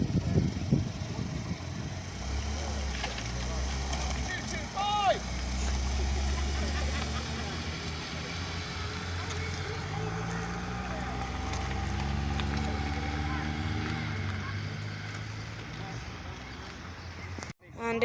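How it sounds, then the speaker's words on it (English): A green Porsche GT3 RS and then a Nissan Figaro pull away from a classic car meet outside a country inn, their engines rumbling steadily nearby under crowd chatter and general outdoor murmur. "departing now, we have the green GT3 RS, followed by the Nissan Figaro."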